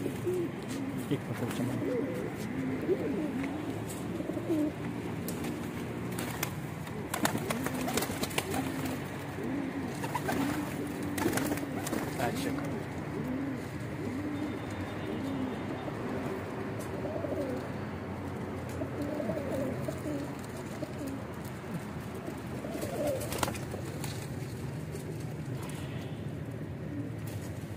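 Pigeons coo softly and repeatedly on a rooftop loft, with some thirty birds kept there, a steady low murmur running throughout while someone speaks briefly nearby.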